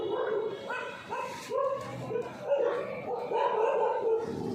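A very active stray dog in a park barks repeatedly in short yelping bursts close by, mixed with whimpers, while someone speaks over it.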